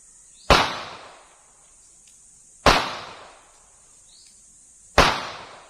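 Three sharp pistol shots from a CZ P10 S on a shooting range, each a loud crack with a short decaying tail, spaced about two seconds apart with no talk between.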